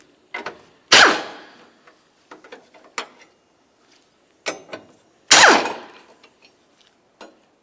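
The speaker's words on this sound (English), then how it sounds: "we're going to start removing these two 13mm headed bolts" A hand ratchet loosening 13mm bolts on the passenger-side engine mount of a 2007-12 Nissan Sentra, with sharp metallic clacks and brief bursts of rapid ratcheting clicks, close and loud, separated by pauses.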